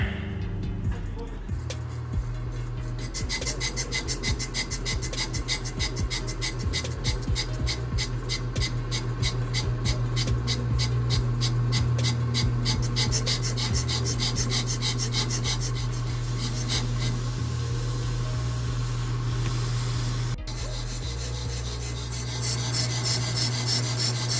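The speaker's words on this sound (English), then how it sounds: "So we're going to cut, resurface the rotor." A lathe cutting and resurfacing the front brake rotor of a 2015-2019 Acura TLX gives a steady, loud, continuous grinding rasp with a constant low hum, which keeps going without a break for the whole stretch.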